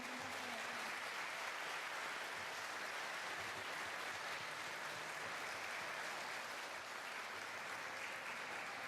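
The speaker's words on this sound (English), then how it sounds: "can we just finish by everyone giving themselves a huge round of applause" An audience at a training celebration event applauds one another, a soft, distant wash of many hands that holds evenly throughout with no voices on top.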